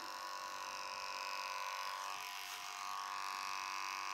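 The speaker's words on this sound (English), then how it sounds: "so I'm gonna bring the clipper" Electric hair clippers buzz steadily and close by while trimming short hair in a clippered pixie cut, a continuous motor whine that slightly shifts in pitch partway through as the blades move along the head.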